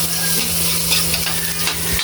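Onion and garlic sauté in a hot pan with a continuous close sizzle and crackle over a faint steady hum, with no voices.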